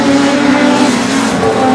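A short-track race car engine skips and misfires on the track, a loud, rough, uneven drone with faltering pulses rather than a clean rev, heard alone without voices.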